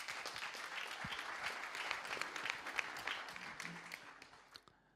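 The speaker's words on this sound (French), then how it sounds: "je vous demanderai, s'il vous plaît, de l'encourager par quelques applaudissements" Audience applause at a 3D printing conference, many hands clapping steadily and then tapering off toward the end, fairly quiet overall.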